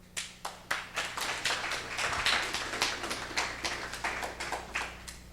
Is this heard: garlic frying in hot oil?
no